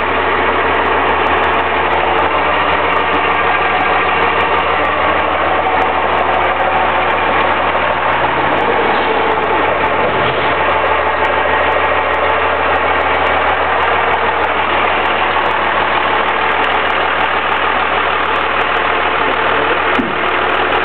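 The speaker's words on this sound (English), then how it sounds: "Don't pass on a good 12-valve Cummins dump truck, guys." A 1997 Dodge Ram 3500 4x4 dump truck with a 12-valve turbo Cummins diesel idles close by, a loud, steady, rough rumble with a constant knocking clatter that holds unchanged throughout.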